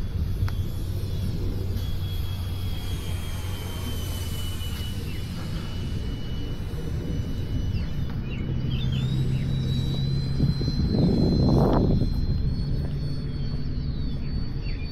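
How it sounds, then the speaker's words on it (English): A Habu SS 70mm electric ducted fan RC jet makes a flyby near an airstrip, its whining fan tone rising and sweeping past with a louder surge near the end over steady outdoor rumble. "We're gonna do a flyby here close to the strip."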